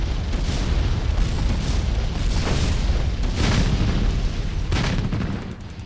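Missile volleys explode on a base in the Evolution RTS strategy game, a dense, continuous roar of booming, rumbling blasts with several stronger bursts standing out, loud and without talk.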